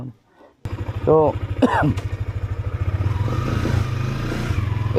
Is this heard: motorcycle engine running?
yes